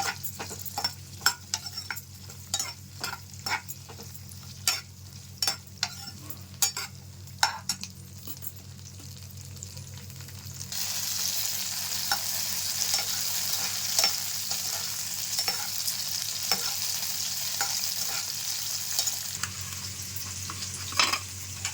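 Green chilies fry in a pan for a village-style tomato and green chili chutney, a continuous close sizzle broken by sharp clinks and scrapes of a spoon stirring against the pan, with no talk.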